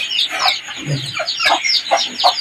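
A mother hen clucks close by her chicks in a series of short, loud, repeated clucks, with thin high chick peeps scattered between them.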